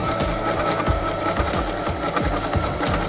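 A sewing machine stitches two pieces of fabric together for a smocked dress, running with a fast, steady mechanical chatter and rhythmic thumps, loud and close, with no voices.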